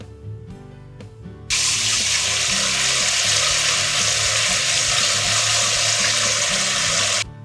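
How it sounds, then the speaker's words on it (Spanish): Tap water runs steadily into a sink as quinoa is rinsed, a loud continuous rushing that starts abruptly after a second and a half of quiet kitchen clatter, then stops near the end. "Empezaremos por lavar la quinoa."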